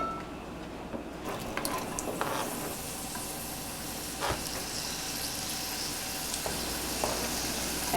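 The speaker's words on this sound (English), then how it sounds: "fry the onions" Onions frying in a pan on a stove, a steady close sizzle with a faint scrape near the start and a few soft knocks throughout.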